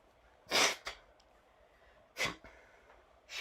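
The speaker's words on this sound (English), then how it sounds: "you get to hear this wonderful sound of me blowing my nose" A person blowing a blocked nose indoors: two sharp, breathy nasal blasts, the first long and strong, the second a short snort, followed by a third forceful blow, fairly close and alone with no talk.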